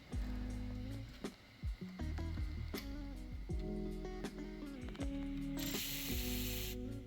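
A hand ratchet clicks in short bursts while loosening rear brake caliper bolts on a 2012-2017 Toyota RAV4, its pawl ticks riding over steady background music.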